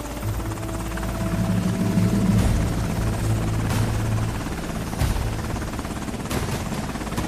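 A military helicopter's rotor and engine roar loud and steady throughout, a dense continuous thrum with brief bursts of wind noise, no voices.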